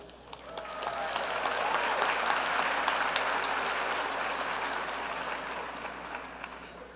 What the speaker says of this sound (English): And now, I'd like to ask you to give a warm round of applause for Dr. Mo-Yi Lee